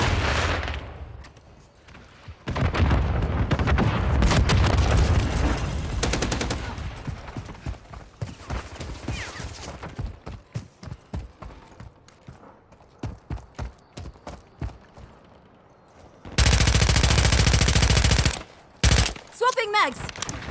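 Remote sentry turret firing in Call of Duty: Modern Warfare 3, long sustained bursts and rapid clattering single rounds in a busy multiplayer match, with a dense loud volley near the end.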